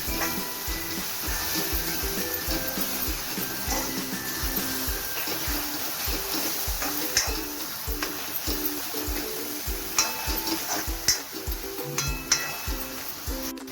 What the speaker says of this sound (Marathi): इथे आपण छान कांद्यामध्ये परतून घेऊया.